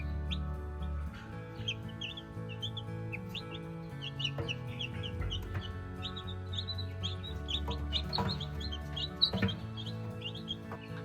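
Baby chicks peeping in a brooder, many high, rapid cheeps overlapping continuously in a busy chorus against a low steady hum.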